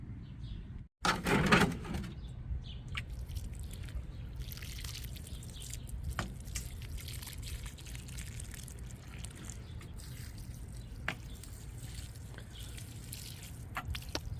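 Water trickles and splashes steadily onto a snapdragon plant and its freshly topped-up soil in a garden. The flow is close and continuous for most of the stretch, with a few small drips and taps along the way.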